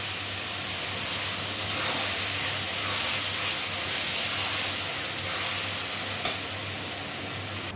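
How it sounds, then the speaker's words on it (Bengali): Grated ridge gourd sizzles in a wok with tempering spices, a continuous close hiss and crackle with light stirring scrapes and a brief knock near the end, no talking. "এবার কড়াইয়ের মধ্যে ওই গ্রেট করে রাখা ঝিঙেটা দিয়ে দিলাম।"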